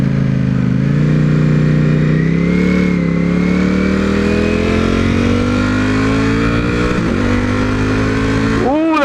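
A Ducati V4 motorcycle engine pulling slowly forward, a loud close steady drone whose pitch rises gradually as it moves off, with a brief shift near the end and a voice talking over it.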